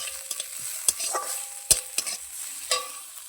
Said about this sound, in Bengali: ভালো করে লাল করে ভেজে নেবো এটা।